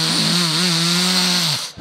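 A human voice imitates a chainsaw in a buzzing, droning tone held loud and close for about a second and a half before it cuts off abruptly.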